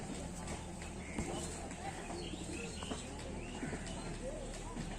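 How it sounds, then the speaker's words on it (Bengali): A pair of black male pigeons in a loft coo softly among other birds' chirps, with constant background hum and faint shuffling throughout. "তো নেক্সট আরেক জোড়া কালো নর পায়রা, এটাও।"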